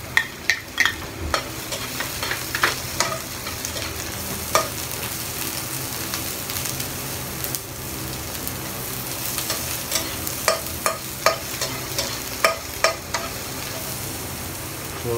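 Onion and garlic sautéing in a pan for a beef broccoli dish, a steady sizzle with sharp scraping clicks of a utensil stirring at irregular intervals, close and fairly loud with no talking.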